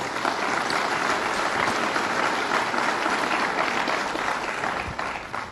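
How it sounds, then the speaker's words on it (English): A large audience at SUNY Plattsburgh gives sustained applause during a governor's public address, a loud, even wash of clapping that holds for several seconds before easing slightly at the end. "let's give him a round of applause."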